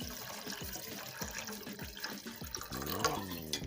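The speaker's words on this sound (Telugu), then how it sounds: "ఇందులోకి ఒక 1/2 లీటర్ వాటర్ని యాడ్ చేయాలండి" Half a litre of water poured into a pan of fried pieces for a winter sweet corn soup, a continuous splashing gurgle with rising bubbly tones as the pan fills.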